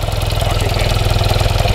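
A 1982 BMW R65LS motorcycle idling just after a cold start, a loud, close, steady boxer-twin throb with an even pulsing rhythm and no talking.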